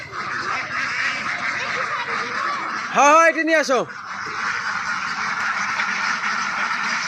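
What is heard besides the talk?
ducks quacking on a duck farm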